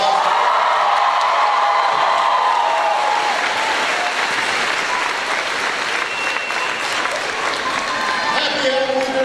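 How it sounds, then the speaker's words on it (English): A college crowd at a political rally applauds and cheers, a dense, loud roar of clapping mixed with whoops and shouts that holds steady for about nine seconds. "big round of applause."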